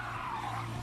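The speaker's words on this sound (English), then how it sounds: "I use the handbrake to kind of initiate a slight bit of a slide" A car in a racing video game skids in a handbrake-initiated slide, giving a short, steady tire squeal with engine hum underneath, close and alone for under a second.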